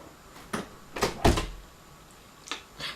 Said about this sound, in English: David, shut my door, please.